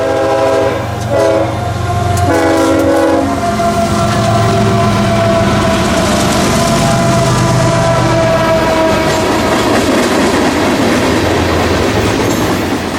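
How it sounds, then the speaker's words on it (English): A mixed freight train led by three GE locomotives sounds a GEVO chord horn in long loud blasts, then rolls past with heavy engine rumble and steady clattering wheels. "I was hearing the unmistakable chord of a GEVO horn. 3 GEs leading Q542, mixed freight from Rice Yard to Queensgate Yard"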